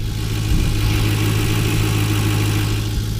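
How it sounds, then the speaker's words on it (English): An old police car's engine idles steadily up close, a low rumbling drone with constant vibration and no voices; the hood has a ram air scoop. "And you can hear the engine, watch."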